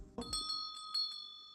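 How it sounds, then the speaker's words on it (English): A small bell rings with a few bright, sustained metallic strikes in quick succession, each tone lingering and overlapping, after a soft bump at the start; no voices. "I gotta fix that bell."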